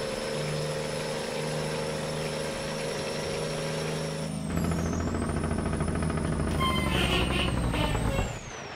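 A heavy truck from an American Truck Simulator mod idles steadily, then gives a loud air-brake hiss and rumbles on, revving louder with a rising whine near the end, close and with no talk.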